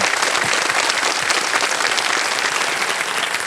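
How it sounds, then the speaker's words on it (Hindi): A TV game show studio audience on Kaun Banega Crorepati applauds a contestant steadily and loudly, dense clapping sustained throughout without any talk. "एक बार इनके लिए ताली बज जाए।"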